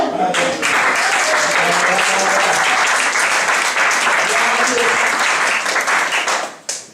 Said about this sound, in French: On va acclamer le Seigneur?